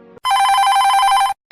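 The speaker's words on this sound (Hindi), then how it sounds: "मोबाइल पर फोन आता है" A phone rings with a loud, steady electronic trill lasting about a second, starting after a brief quieter tone and ending abruptly.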